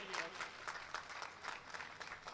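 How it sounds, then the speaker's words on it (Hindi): Audience at an All India Mushaira poetry gathering in Varanasi claps in a quick, fairly even rhythm, a faint, distant round of applause with no voices. "एक बार जोरदार तालियां बजा दीजिए दमदार बनारसी भाई के लिए।"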